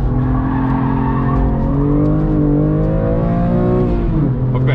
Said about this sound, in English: Car slides out a little bit.